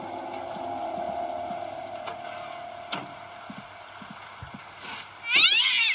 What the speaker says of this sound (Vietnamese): có một con mèo